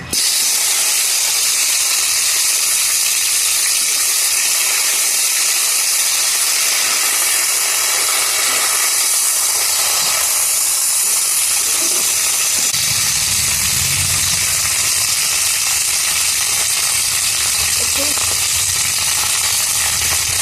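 Okra sizzles in a hot pan while being fried for a Bengali bhindi posto dish, a constant bright hiss that stays loud and even throughout, with a slightly deeper bubbling texture toward the end.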